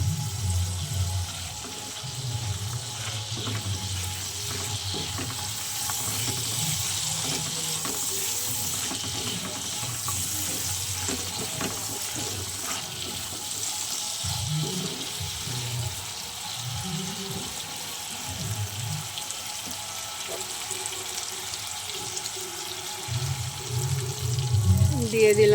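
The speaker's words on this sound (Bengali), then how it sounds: "এবার চলো একটু ভেজে নিই।" Green chili paste with salt and turmeric sizzles in a pan, giving off a steady, even hiss while a voice speaks intermittently over it.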